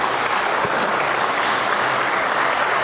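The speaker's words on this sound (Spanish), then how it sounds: "¿Y cuántos le dan un fuerte aplauso a esa palabra del Señor en nuestras vidas?" A church congregation gives loud applause, a dense and continuous roar of many hands that holds steady and loud without a break.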